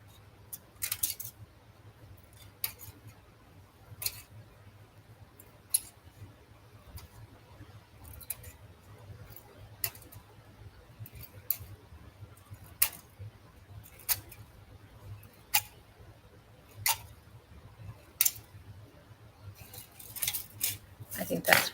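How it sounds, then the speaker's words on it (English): Scissors snipping a small piece for a wooden craft, giving sparse, quiet sharp clicks spread out at irregular intervals over a low steady background hum, with no voice over them. "So we'll just cut another little piece and put on there."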